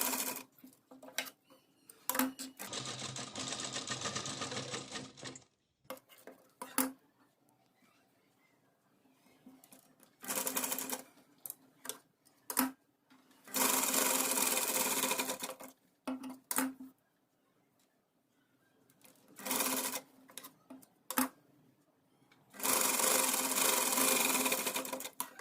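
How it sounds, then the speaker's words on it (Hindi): A sewing machine stitches lace onto a stand collar in bursts of fast, even whirring, several runs of a few seconds each separated by quiet pauses and light handling clicks. "स्टिच करते हुए इसे अटैच कर लेंगे"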